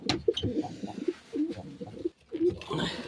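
Pet pigeons kept by a hobbyist coo close by in a series of soft, throaty, repeated calls, with some rustling between them.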